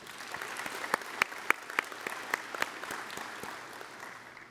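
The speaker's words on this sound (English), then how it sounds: "Please congratulate our Large Patriot Employer of the Year with another round of applause." Audience applause at an award ceremony honoring an employer of the year, a moderate crowd clapping steadily with a few sharp, louder individual claps standing out near the start before gradually easing off.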